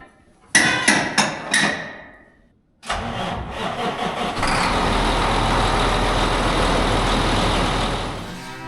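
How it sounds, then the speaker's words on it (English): A semi truck engine cranks in four quick bursts, pauses, then fires and settles into a loud, steady diesel idle close by. "Truck started right up."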